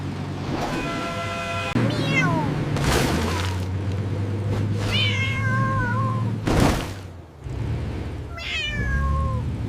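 A cartoon cat meows several times, bright rising and falling cries set over a low rumbling train and occasional loud bangs, all in an animated action scene.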